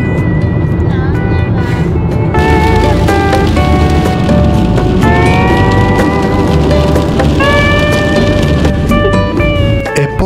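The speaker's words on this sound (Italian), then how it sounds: "È cominciato a diluviare. Cavolo, questa è grandine." Heavy rain and hail pound down near the Grand Canyon in Arizona, a loud, dense, continuous roar of drumming on a surface for the full stretch, with steady tonal hum running underneath.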